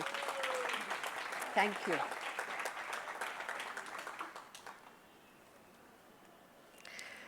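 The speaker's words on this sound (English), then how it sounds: "This is something to applaud." Audience applause at an inaugural event, fairly faint and distant, rolling on for several seconds with a brief spoken thanks over it before it fades away to quiet room tone.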